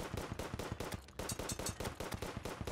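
Rapid gunfire from shooting in Terraria, a fast string of sharp, evenly spaced shots that rattles on steadily and loudly from start to finish with no talking.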